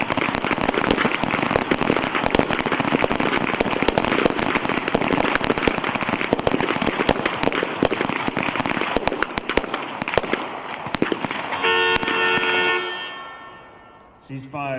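Rapid pistol gunfire at a team pistol match, many sharp overlapping shots crackling nonstop for about twelve seconds, then a few scattered reports and a horn-like tone as firing stops.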